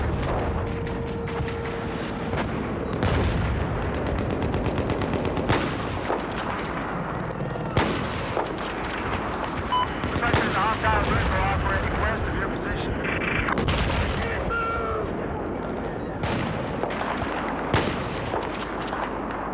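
Gunfire in the Battlefield 4 video game, dense bursts of automatic weapons and booming shots filling the whole stretch, loud and continuous, with players talking over it.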